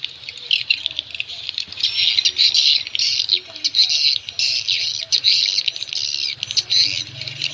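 Swiftlet roosting call playback (suara inap walet, classic version): continuous loud, dense chirping and twittering with rapid repeated tweets over a low steady hum, no speech.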